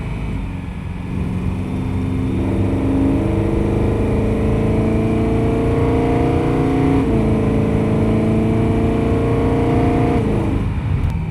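A BMW E92 M3 engine revs hard and climbs through the gears, its loud rising howl broken by brief dips at each shift, heard from inside the car without talk.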